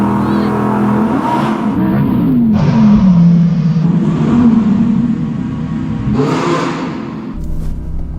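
Audi R8 cars, all-wheel-drive and rear-wheel-drive on winter tyres, roar off the line in a drag race, engines revving loudly and climbing in pitch with shifts, staying close and steady throughout.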